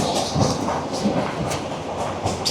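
A second class passenger train carriage rolls along with a steady rumbling roar and rhythmic clickety-clack of wheels over rail joints, loud and close from inside, with no talk.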